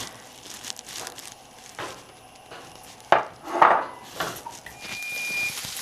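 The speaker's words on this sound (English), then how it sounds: "I'm gonna cook this until it's fully cooked through and I'm gonna break it up with my wooden spoon" Sausage cooks in a pan while a wooden spoon breaks it up, giving soft irregular scrapes and a few sharper knocks against the pan over faint sizzle, close and without talk.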